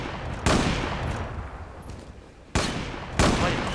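Three sharp bursts of gunfire from a first-person shooter video game, Zula, each a loud crack with a decaying tail, irregularly spaced with quieter background noise between them.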